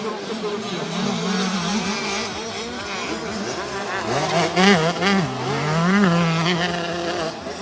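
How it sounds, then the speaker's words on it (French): A motocross motorcycle engine with a fault, heard at a track race, its revs wavering up and down in an uneven, rising and falling whine, fairly loud and close, with other bikes and talk faintly mixed in. "je vous laisse écouter la moto de Slenny, mais il y a un problème."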